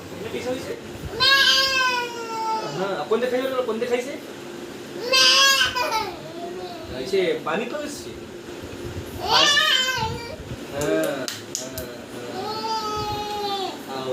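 Loud, wavering goat bleats ring out several times in a row, close by, from a goat stuck in a cooking pot after drinking water, with short gaps of background murmur between calls.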